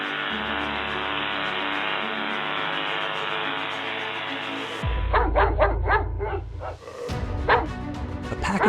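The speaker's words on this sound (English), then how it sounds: "A pack of dogs stays on high alert as danger approaches." Several dogs in a pack bark sharply on alert with lions nearby, a burst of close, loud, overlapping barks and yips that follows a stretch of sustained music.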